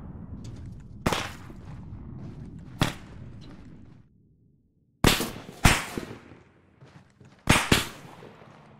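Sharp, loud gunshots crack out in scattered bursts, single shots and quick pairs, against a low rumbling background with faint noise between, in the video game Arma 3 on the Stratis map.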